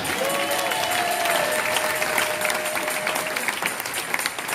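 A church congregation claps and acclaims the Lord, a dense, steady wave of applause that fills the room, with a sustained tone threaded through the first few seconds.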